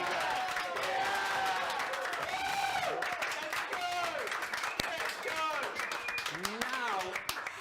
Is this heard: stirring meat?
no